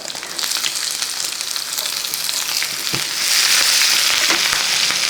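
Chopped garlic and green chilies fry with mustard seeds in hot oil for an egg and potato dish: a steady, close sizzle that swells louder and brighter partway through, with scattered crackles and no talking.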